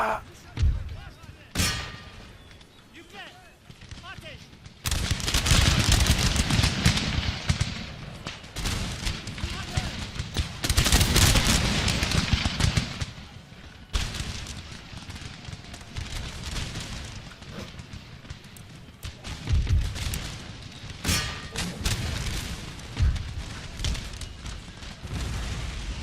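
Musket and artillery volleys in the Empire Total War video game, playing as the Ottoman Empire: loud bursts of rolling gunfire and booming cannon come in waves, with quieter gaps, while someone talks over the battle.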